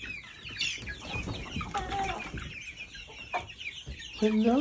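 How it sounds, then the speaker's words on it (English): Chickens cluck and a rooster calls close by, with a few soft voices mixed in among the birds. "There's another rooster."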